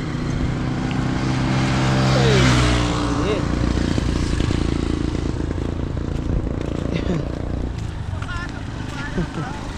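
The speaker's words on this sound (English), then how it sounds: "See that motorbike?" A motorbike passes along a road, its engine swelling to a loud peak and then fading, with a rising and falling pitch, as someone talks over it.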